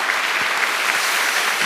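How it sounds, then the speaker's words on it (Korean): Congregation at a church gathering breaks into steady, dense applause in a large hall, many hands clapping together at even loudness with no speech over it. "우리 하나님께 영광의 박수를 돌립시다."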